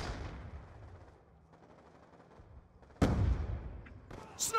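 Automatic weapon fire in the video game Black Ops 2, a burst of loud gunfire breaking in after a quieter stretch of low rumbling game ambience, with more shots at the end.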